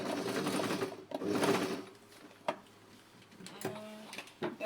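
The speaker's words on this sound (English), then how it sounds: "So I'll repeat my sewing here where it's unraveling. And I'll back stitch as I get to the end." A sewing machine back stitches a skirt seam with two short whirring runs, followed by scattered clicks and taps as the fabric is adjusted, close and alone.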